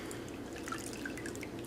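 Lye solution trickles slowly into soap-making oils, a faint, steady, close liquid pour with small drip-like splashes and no talking.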